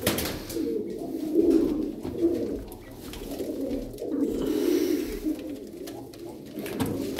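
Pigeons, play and color breeds, coo steadily in a loft in Darıca, low rolling calls repeating in waves and fairly close, with no talk over them.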